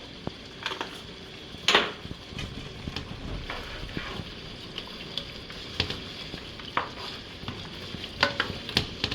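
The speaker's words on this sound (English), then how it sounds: "I'm going to let this simmer for a little bit so the onions get a little bit softer." Onions and garlic, seasoned with a little powder, simmer and sizzle softly in a pan, with occasional stirring scrapes and sharp utensil clinks against the cookware.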